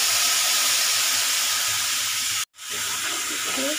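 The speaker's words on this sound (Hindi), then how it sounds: "जीरा के बाद अब हम जो पेस्ट मैंने बनाई थी वो पेस्ट अभी मैं इसमें डाल दूँगी" Spice paste hitting a hot pan of cumin seeds for bitter gourd sabzi, giving a loud, steady hiss and sizzle that cuts out briefly mid-clip, then resumes with faint clinks.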